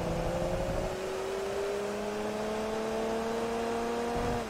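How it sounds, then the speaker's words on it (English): Diesel LMP race car in Forza Motorsport 3 holds a steady, loud engine drone with low rising harmonic tones as revs climb slowly, continuous and close throughout. "This is definitely a diesel. You can tell by the really low rev point."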